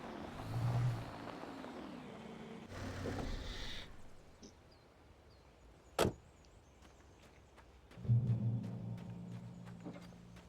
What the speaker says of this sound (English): I probably give Alan very confusing signals how to drive the car, and that's why it revs up so much